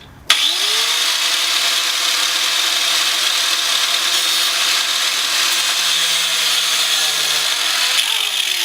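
A power tool spins up sharply and cuts continuously through plastic on an Acura RSX car. The grinding whine is loud and close and holds steady for several seconds before winding down at the end.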